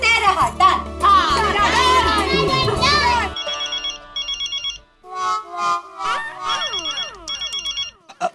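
A mobile phone ringtone plays in bursts of repeated electronic tones in a domestic setting. It comes in after a stretch of lively voices and music.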